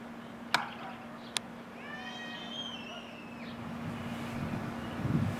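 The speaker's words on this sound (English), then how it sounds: "We got these kitties in here and a puppy looking after them." Kittens in an enclosure with a puppy watching over them, giving a short run of faint, thin, rising meows amid steady background hum and breezy noise, with a couple of sharp knocks before it.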